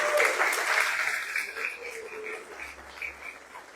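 Church congregation applauding, a broad wash of clapping that is fairly loud at first and gradually thins and fades over a few seconds.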